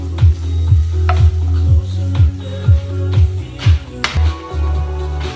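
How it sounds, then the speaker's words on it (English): Coriander stalks frying in a pan give a steady close sizzle, broken by a regular series of stirring scrapes and taps roughly every half second, with louder clatter near the end. "we're going to add the coriander stalks. And we're going to fry that off."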